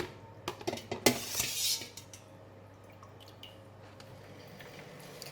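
Wet clattering and dripping as scallops are lifted out of cold water and drained, a burst of splashy handling that fades into quiet background.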